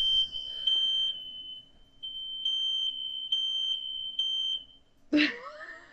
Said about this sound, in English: He's just like setting off the fire alarm.